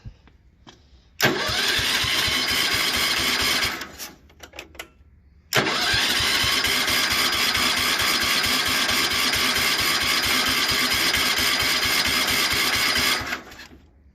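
A 1973 Wheel Horse 8hp four-speed garden tractor engine cranks and catches, runs steadily for a few seconds, cuts out, then restarts and runs with a steady putter for several seconds before stopping. It is loud and close, with no talking.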